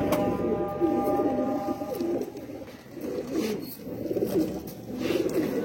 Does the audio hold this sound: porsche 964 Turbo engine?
no